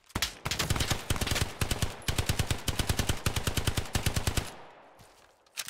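Rapid machine-gun bursts from Hell Let Loose ring out in long, even volleys of close, loud shots, stopping briefly and then dying away into quiet.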